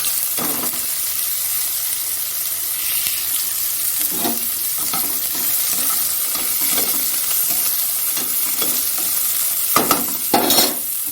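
Bitter gourd, pumpkin and potato being stir-fried in a pan with panch phoron, a steady close hiss of frying broken by several sharp spatula scrapes and stirring strokes, no talking.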